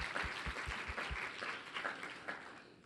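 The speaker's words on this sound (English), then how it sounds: "So, round of applause for that" Audience applause for a panel speaker at a health equity forum, a soft, steady wash of clapping from a crowd that tapers off over about three seconds, heard without any talking.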